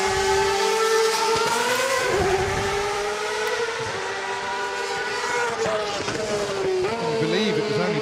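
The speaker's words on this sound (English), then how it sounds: "Here he is in the Screamer," A Ferrari 2.4 litre V8 Grand Prix car screams at high revs at the Goodwood Festival of Speed, a loud, sustained wail that shifts pitch through gear changes, with commentary running beneath it.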